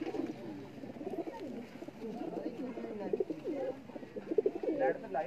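Ferozpuri pigeons coo in a continuous murmur of low, bubbling calls close by, with people chatting over them.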